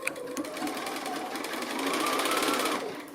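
Sewing machine stitching quilt pieces together, a rapid, steady mechanical chatter of the needle that speeds up slightly in the middle, close and loud with no talking.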